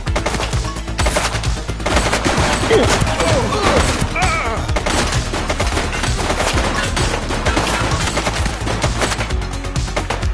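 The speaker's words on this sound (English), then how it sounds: "Shots fired!" Sustained gunfire in the police video game The Precinct, dense bursts and rapid shots rattling continuously over a loud, busy game soundscape.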